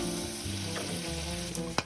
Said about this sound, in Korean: 이제 냄비에 제일 먼저 썰어둔 베이컨을 볶아서 돼지기름을 내줍니다